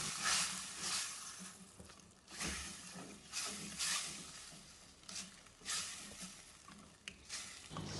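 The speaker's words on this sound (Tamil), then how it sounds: "தயிர் சேர்த்துட்டு அந்த மசாலாவோட நல்லா மிக்ஸ் பண்ணி விட்டுறணும்" Yogurt is stirred into masala frying in oil for a wedding-style mutton curry, making a soft sizzle and hiss broken by rhythmic swishing strokes of the spoon roughly every second, fairly faint, with no talking over it.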